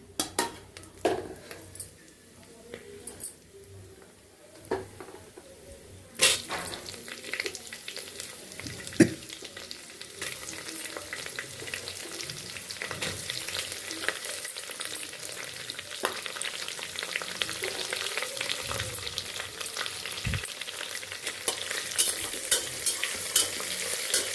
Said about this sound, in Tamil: இப்போ நான் வந்து வெங்காயம் போட போகிறேன்.